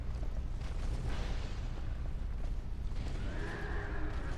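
Horse neighing in the video game Dark Souls 2: Scholar of the First Sin on PS4, a whinny rising near the end over a low rumbling game soundtrack, with no talk.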